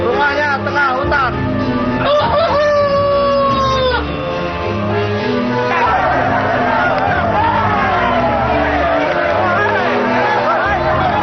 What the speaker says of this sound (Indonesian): Ayo, masukkan semua ayam petarung.